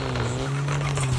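A car in Car Parking Multiplayer 2 gives off a steady engine drone with a harsh scraping skid layered on top, close and continuous, though no clear crash impact stands out and no one speaks.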